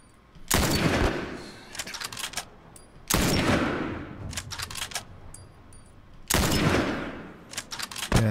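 Video game gunfire in The Last of Us, three loud bursts of rapid automatic shots, each followed by a trailing patter of single shots and echoes, close and dominant with no talk.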